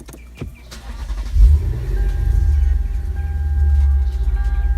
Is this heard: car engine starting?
yes